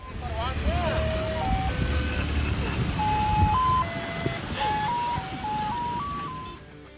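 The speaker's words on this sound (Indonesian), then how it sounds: "diiringi oleh suara jingle khas es krim" Ice cream jingle typical of a street vendor in Indonesia, a bright electronic melody of stepped tones playing steadily over busy outdoor noise and murmuring crowd.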